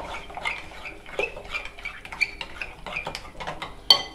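Chili dip ingredients being mixed in a bowl: soft irregular scraping and tapping, with a sharper clink near the end, fairly close and moderately quiet, no talking.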